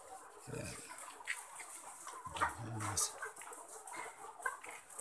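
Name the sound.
ready-to-lay chickens clucking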